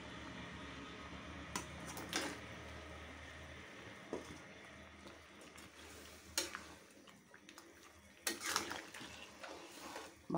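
Pieces of chicken dropped into a pot of half-cooked potatoes, followed by a steady sizzle, with scraping stirs and a few sharp clanks of a utensil against the pot.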